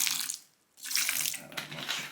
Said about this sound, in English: what we're going to do is we'll add a bit more water